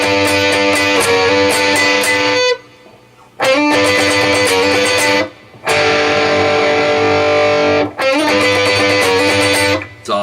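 A riff is played slowly on a distorted electric guitar, in loud sustained phrases broken by short pauses, with no voices.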